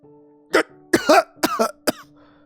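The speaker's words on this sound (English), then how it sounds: "The entity begins to cough, as if choking." Four harsh, throaty coughs from an entity in the video game To Eat A God, in quick succession, close and loud, with a strained, choking quality between them.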